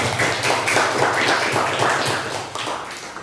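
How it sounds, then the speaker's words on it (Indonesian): A group of children in a classroom clap their hands together in a brief, fairly loud burst of uneven claps, with no talking over it. "Tepuk tangan, teman-teman."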